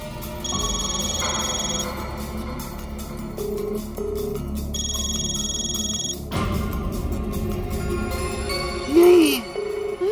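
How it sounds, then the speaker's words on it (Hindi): A telephone rings unanswered in a Hindi sitcom household, giving two separate bursts of bright electronic ringing with pauses between them. Quiet background sound and a short final tone follow, and no one speaks. "अब्दुल भाई फोन ही नहीं उठा रहे हैं"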